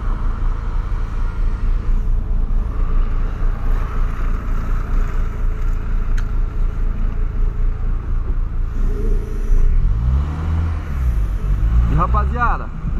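A 2009 Ford Ka engine hums and rumbles steadily while driving, with road noise underneath and a brief rise in engine tone near the end.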